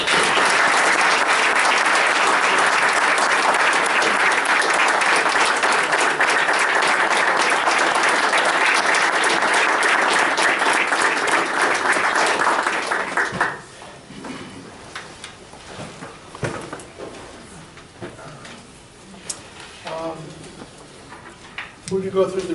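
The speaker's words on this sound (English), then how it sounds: "Let's have a round of applause for Jennifer" An audience applauds an award recipient at a formal meeting, loud sustained clapping for about thirteen seconds before it drops away into quieter room noise and scattered sounds.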